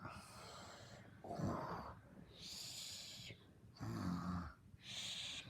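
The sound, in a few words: children imitating snoring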